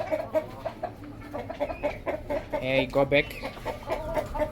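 Black Australorp chickens clucking around feeders, a busy run of close clucks and squawks under a person speaking briefly.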